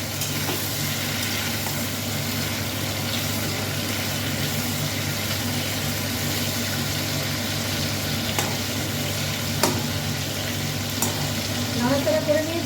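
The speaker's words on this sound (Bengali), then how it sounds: "আর একটু নাড়াচাড়া করে নেব।" Karahi chicken seasoned with salt is stirred in a pan, giving a steady, close sizzle throughout with faint scraping and a few brief clinks near the end.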